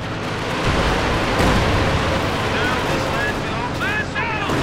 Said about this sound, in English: Looks like the Haymortar's finally firing a bit in support here and doing something.